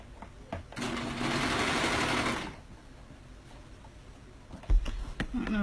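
A serger stitches the side seams of a garment in a steady, fast mechanical whir lasting under two seconds, fairly close, followed by quieter handling sounds and brief thumps.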